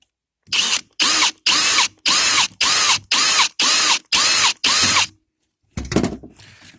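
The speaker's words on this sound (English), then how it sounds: "I'm going to drill the hole." A power drill whirs in nine short, evenly spaced bursts while drilling a hole in a plastic trail camera, loud and close, followed by a brief rattling scrape.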